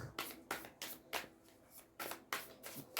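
Tarot cards are shuffled by hand in a quiet room, producing a series of crisp riffling bursts, about eight of them in quick uneven rhythm. The shuffling is close and soft, with no talk.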